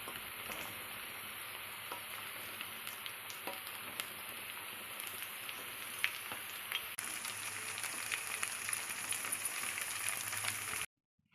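Black-eyed peas frying in a pan with green chillies give a continuous crackling sizzle with scattered pops. The sizzle grows brighter and louder partway through, then cuts off abruptly near the end.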